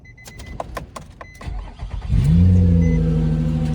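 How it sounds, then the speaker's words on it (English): A car with a smoking engine is started, a few rattling cranks and clicks giving way to the engine catching and revving up loud and close, then holding at a rough idle. "I'm going to start the vehicle and you're going to see all the smoke."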